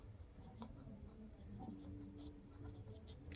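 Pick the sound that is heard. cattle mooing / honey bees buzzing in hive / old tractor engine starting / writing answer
writing answer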